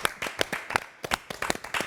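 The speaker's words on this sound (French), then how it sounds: "On vous applaudit encore une fois." A handful of people clap at a talk about the Senegalese Tirailleurs, sparse and uneven claps close by, with short gaps between bursts.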